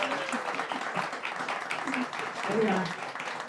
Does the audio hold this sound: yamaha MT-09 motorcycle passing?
no